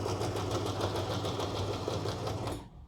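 A pedal-operated sewing machine stitches at a steady fast pace, a rapid even mechanical clatter and hum, close and continuous before stopping at the end.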